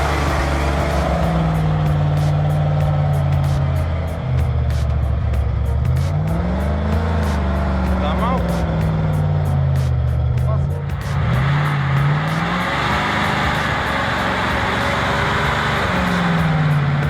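A big logging truck stuck in mud roars continuously up close, its engine pitch rising and falling as the wheels spin and the truck fights for grip, with a narrating voice over it.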